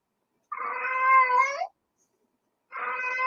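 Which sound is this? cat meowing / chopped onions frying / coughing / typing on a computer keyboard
cat meowing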